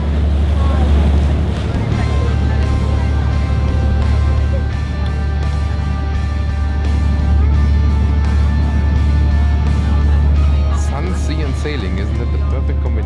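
A motor boat cruises around Lefkas island in Greece, its steady low engine drone and wind buffeting the microphone running throughout, with people talking over it.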